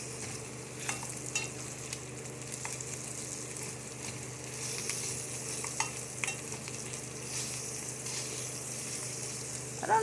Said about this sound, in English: I fried this hamburger really good.